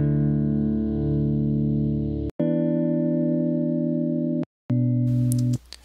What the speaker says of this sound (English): I've added a low pass and a high pass filter, as well as adding a bit of compression just to warm up and thicken the chords.